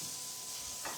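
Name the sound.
food sizzling in a pan on a cooktop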